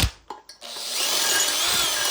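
A power drill enlarges a hole in metal on an electric motorcycle mod, a few short bursts starting and stopping before the bit settles into a steady, bright whining grind until the end.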